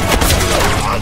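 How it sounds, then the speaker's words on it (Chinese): Film sound effect of an automatic gun turret firing at police, a dense one-second barrage of rapid shots and blasts filling the clip loudly. "自动炮台来回射击，打得警察丢盔卸甲"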